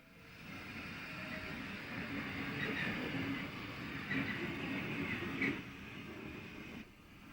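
A J94 Austerity steam locomotive, Errol Lonsdale, working on a heritage railway, giving a steady mid-distance rumble and chuff that swells a little mid-way, then drops near the end.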